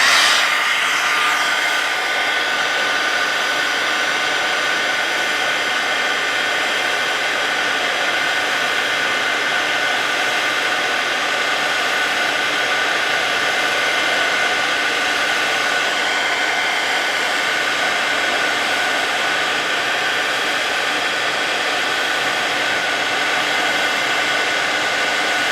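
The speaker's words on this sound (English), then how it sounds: "So I'll hit this with my heat tool." A heat tool blows hot air onto an ink impression, a steady, loud, close whooshing hiss that holds unbroken and unchanging throughout.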